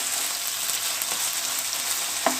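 Qeema karela, minced meat with bitter gourd cooked dhaba style, sizzles and fries steadily in a pan, a dense close crackle with a few faint stirring knocks.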